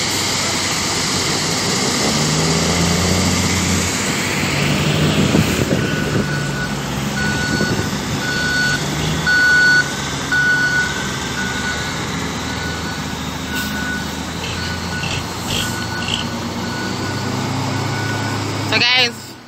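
Trucks working on a rough hill road, heavy engine rumble throughout with a steady, evenly spaced reversing beep sounding repeatedly through the middle, loud and near, with wind and no clear speech.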